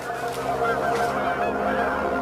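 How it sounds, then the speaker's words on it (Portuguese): Steady honking of geese over a constant hum, several calls layered together at moderate loudness with no pauses. "Alguns sugerem que foram gansos."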